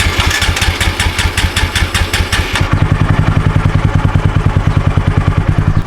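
A BMW F850GS motorcycle engine cranks with a rapid mechanical clatter on a weak battery, then catches and settles into a loud, steady, close idle.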